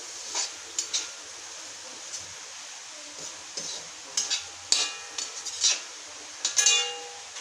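Cashew nuts and chillies stirred in a pan for a cashew curry: a quiet run of scattered scraping and clinking of a spoon against the pan, with faint sizzling between the strokes.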